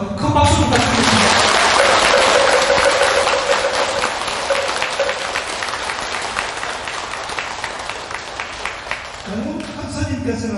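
A large crowd at a Buddhist temple dharma service breaks into sustained applause that swells quickly, holds steady for several seconds, then fades out as a voice returns at the end.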